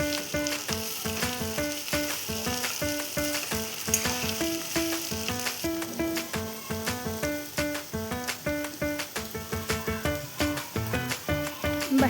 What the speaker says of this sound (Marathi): आता बारीक केलेला बटाटा पण टाकून घ्यायचा आहे आणि बटाटासुद्धा तेलामध्ये आपल्याला